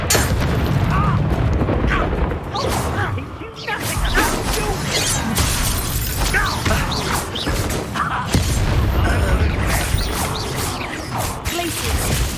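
Confringo blast spells burst in combat in Hogwarts Legacy, with loud booms, crashes and whooshes layered over a constant busy battle din and game voices.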